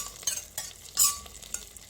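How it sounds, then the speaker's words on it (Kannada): Hot tempering poured into cooked pongal, giving short sizzling bursts mixed with spoon stirring and scraping in the pot, close and fairly quiet, with no voices. "ಈಗ ನಾವು ಒಗ್ಗರಣೆ ಮಾಡಿರೋ ಇದನ್ನು ಇದಕ್ಕೆ ಪೊಂಗಲ್ಗೆ ಸೇರಿಸ್ಕೊಳ್ಳೋಣ."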